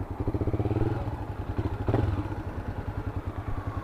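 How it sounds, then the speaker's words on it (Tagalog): A motorcycle engine idles steadily with a rapid, even putter, loud and close, with a brief clatter partway through. "Salamat kay paring Anton at naayos na yung motor natin."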